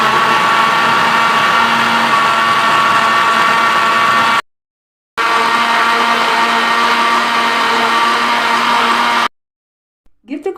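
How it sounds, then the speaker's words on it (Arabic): A kitchen blender whirs loudly, mixing a blueberry and banana milkshake with honey and milk; a steady motor whine runs for about four seconds, cuts briefly, then runs again before stopping. "هنشغل الخلاط ونعمل ميلك شيك."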